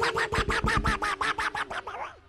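A comedian on a Thai comedy troupe stage show uses his voice to imitate a cat, giving a close, rapid run of about ten rhythmic meow-like cries that end in a longer drawn-out wail.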